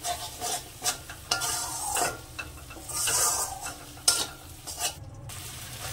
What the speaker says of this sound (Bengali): আবারও একদম লেওয়া জালে গ্যাসটা একদম ছোট করে দিয়ে সুন্দর করে এটাকে কষে নিই